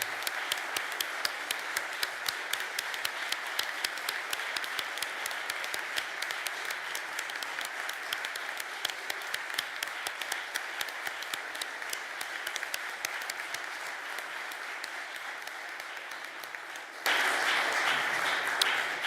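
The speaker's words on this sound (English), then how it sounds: "this applause is more than merited" Long, steady applause from an audience at a moot court finals and awards ceremony, moderately distant and even, continuing for many seconds with a brief louder swell near the end.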